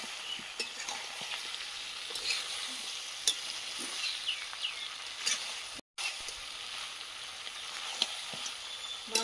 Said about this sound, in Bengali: মাংসটা খুব ভালোভাবে কষিয়ে নিয়েছি।